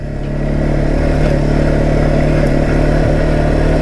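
Kymco Maxxer 450i quad engine revving loudly up close, a sustained low rumbling roar with slight clattering, no voices.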